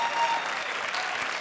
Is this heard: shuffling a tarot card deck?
no